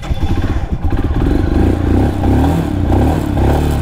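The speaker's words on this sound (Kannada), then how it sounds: "ಮೈನಸ್ 5 ಡಿಗ್ರಿ ಉಂಟು ಇಂಜಿನ್ ಇದು ನೋಡಿ ಇಲ್ಲಿ ಗಾಡಿ ಸ್ಟಾರ್ಟ್ ಆಗಲಿಲ್ಲ" A motorcycle engine tries to start in minus five degree cold on a high mountain road, sputtering and revving unevenly in loud, close bursts with clattering, no talk over it.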